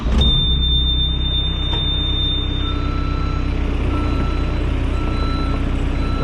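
Mini excavator on rubber tracks starts up and runs, with a loud steady low engine drone and a high beeping alarm tone through the first half, close by and continuous.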